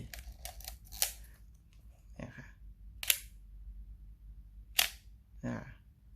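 Several sharp mechanical clicks of a Pentax K1000 film camera shutter, spaced a second or two apart, crisp and close in a quiet room.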